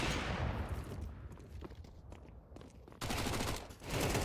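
AK rifle fire in a professional Counter-Strike match, heard as loud, dense bursts of rapid automatic shots that briefly thin out and then resume at full intensity.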